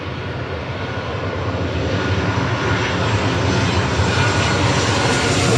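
Airliner arriving at Los Angeles International Airport, a loud, steady roar of engines with broadband rumble that holds strong throughout, close overhead and without voices.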